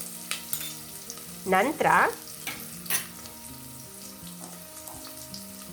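Chopped onion and garlic pieces fry in hot oil with a steady close sizzle and scraping stirs, including a louder burst of crackling partway through, while a person speaks briefly.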